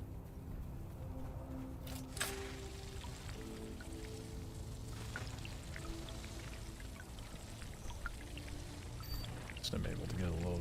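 Water being collected in the video game Dune: Awakening, a steady pouring trickle that runs continuously with soft drips and clicks, a voice faintly present underneath.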